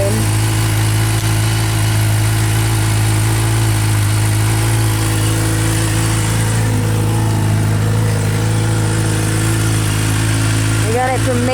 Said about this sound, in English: My 2016 GSXR 750. Man, does it sound good.